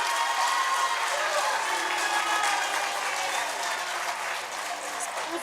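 Crowd noise at a council meeting, where the audience is booing: a dense, sustained wash of many voices at steady loudness, heard close and filling the room.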